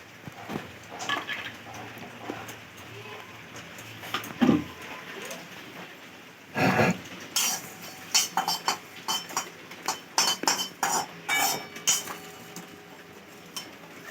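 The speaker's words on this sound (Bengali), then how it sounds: "শুকনো লঙ্কা, এক টুকরো দারুচিনি, লবঙ্গ, দুটো এলাচ, গোটা ধনে আর গোটা জিরে একসঙ্গে সব ভেজে নেব ভালো করে" Whole spices—dried red chilli, cinnamon, cloves, cardamom, coriander and cumin seeds—dry roasting in a wok, heard as close bursts of metallic scraping and clinking from stirring, irregular and louder in the second half, over a quiet background.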